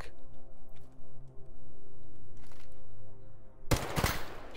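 Machine gun fire in S.T.A.L.K.E.R. GAMMA, a brief loud burst of rapid shots near the end following quieter ambient hum and a few faint ticks.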